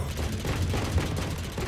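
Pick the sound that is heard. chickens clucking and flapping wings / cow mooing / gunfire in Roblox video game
gunfire in Roblox video game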